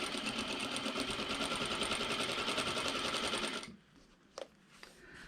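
Sewing machine stitching the lining of a fabric wine bag, a fast even rattle of needle strokes running steadily for several seconds, then stopping, followed by a few faint clicks and handling noises.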